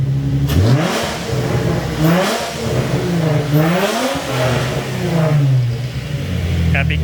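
Nissan 350Z fitted with a swapped-in JDM engine revs repeatedly, several rising and falling blips close to the microphone, with voices talking over the engine.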